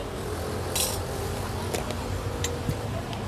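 A spoon stirs cocoa and Hokkaido milk powder into a thick drink in a glass, giving a few scattered light clinks and scrapes over a steady low room hum.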